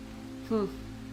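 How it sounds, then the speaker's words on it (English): Steady rain hisses throughout an animated Among Us horror story, with a brief tonal blip rising over it near the middle. "I like the rain. The rain's nice."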